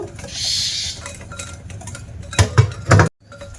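Dry ingredients with semolina are stirred into a milk pitha batter in a bowl: soft scraping and clinking of a utensil against the bowl, building to a few louder knocks before a brief quiet.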